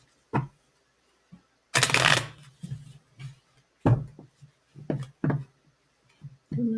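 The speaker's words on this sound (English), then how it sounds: "one more shuffle" A deck of tarot cards is shuffled by hand during a reading, with one brisk riffle burst among scattered soft taps, slaps and shuffling noises in a quiet room, without speech.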